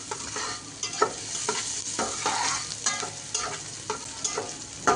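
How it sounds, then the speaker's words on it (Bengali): Chopped onions fry in a pan over medium heat, a steady soft sizzle broken by repeated scraping stirs, close and fairly quiet with no voices. "এ পর্যায়ে চুলার তাপ মিডিয়ামে রেখে আমি পেঁয়াজগুলোকে ভালো মতো ভেজে নেব।"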